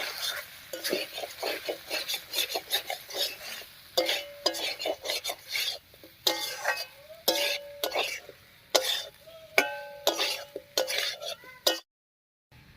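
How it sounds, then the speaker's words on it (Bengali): Pointed gourd (potol) and boiled potatoes stir-fried in a pot, with repeated scraping and stirring strokes of a utensil against the metal at a steady, uneven rhythm, close and moderately loud, with a brief break near the end. "এবার এর মধ্যে দেব পটলটা পটল দিয়ে আলুর সঙ্গে একটু কষিয়ে নেবো"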